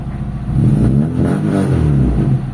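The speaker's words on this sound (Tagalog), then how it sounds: "So ayan, yan na yung ating makina, stable na yung idle mga bossing." A Mitsubishi Lancer GLXi engine running steadily after an idle repair, a loud close rumble with a low, even mechanical drone, a slight rise partway and no talk over it.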